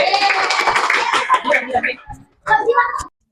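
Children clapping hands together in a classroom, a brief burst of claps mixed with kids' voices that stops short, followed by another quick round before silence.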